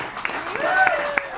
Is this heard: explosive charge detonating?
no